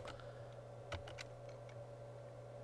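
Quiet, sparse clicks of fingers typing on a computer keyboard: a handful of light, irregular keystrokes heard close but faint against a low steady hum.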